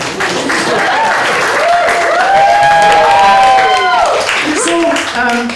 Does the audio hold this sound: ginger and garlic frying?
no